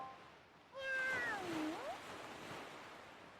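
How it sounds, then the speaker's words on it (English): Female Link's cat-like meow in the Wind Waker Randomizer video game, a single short high-pitched mew that bends downward, heard clearly over a soft ocean-surf ambience. "I do like how they changed the meow for the female Link."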